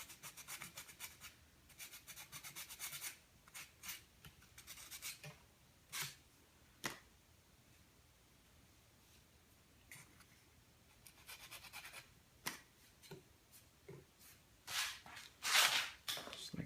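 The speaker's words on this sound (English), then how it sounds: "just gonna take some sandpaper. I wanna rough this area out." Sandpaper roughing the surface of an aircraft rudder ahead of epoxy, giving intermittent dry scratchy rubbing strokes in short bursts separated by quiet pauses, close and moderately loud.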